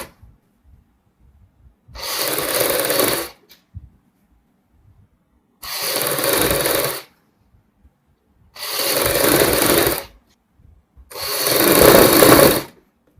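A sewing machine stitches a strip onto a baby frock in four separate bursts of about a second or two each, loud and close, with near silence between runs.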